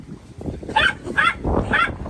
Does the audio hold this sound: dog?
yes